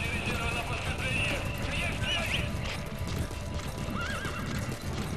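In the Metal Gear Solid 5 video game, a horse whinnies several times over rhythmic galloping hoofbeats, with a person talking over the game sounds.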